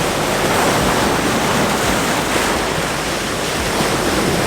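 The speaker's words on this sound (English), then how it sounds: "I can time my shots much more accurately to capture the waves actually breaking" Ocean waves break on the shore at sunrise, a loud, continuous broadband roar of surf with no distinct pauses, close and steady throughout.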